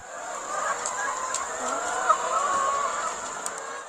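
Laying hens cluck steadily on a village farm, a continuous mid-pitched chatter of several birds with a few sharper individual calls standing out near the middle.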